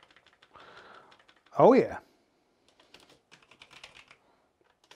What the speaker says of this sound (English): Type some characters and see if they'll delete.